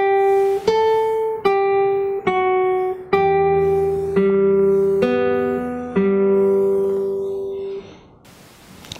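Solo acoustic guitar plays a fingerstyle passage from a piece, with clear plucked notes and a few bass strums ringing out one after another, then fading to silence.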